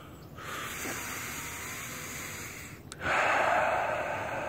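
Heavy breathing sounds close and loud: one long drawn, hissing breath, then a sharp snort-like catch before a louder, rougher exhale, with no talking.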